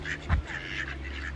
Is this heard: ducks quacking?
yes